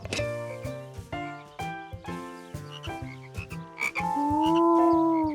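Cartoon frogs croak in a rhythmic series of deep, tonal ribbits, close and repeating about every half second before a longer sustained croak at the end.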